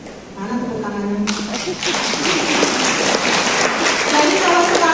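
Applause from an audience at a teachers' association training event breaks out after a spoken voice, swelling into dense, loud clapping that fills the room and continues steadily to the end.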